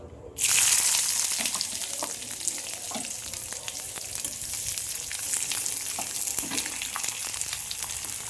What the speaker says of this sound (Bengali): ওদিকে আমার কড়ার তেল গরম হয়ে গেছে। তো আমি এতে পেঁয়াজটা দিয়ে দিচ্ছি।